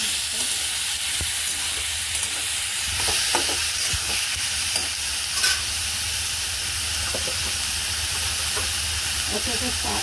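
Vegetables and spices are stirred into a pot of sambar with pumpkin, making a steady close hiss and sizzle with scattered scraping and clinking of a spoon against the pot.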